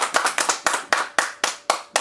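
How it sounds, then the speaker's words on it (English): A handful of people clapping at a quiz night, sparse separate claps in an uneven rhythm, about eight distinct hits over two seconds, close and fairly loud, no talking. "Give her a round of applause."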